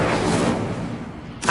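An Incendio fire spell blast in the video game Hogwarts Legacy, played on PS5: a moderately loud, whooshing burst that fades over about a second, followed by a short new hit at the end.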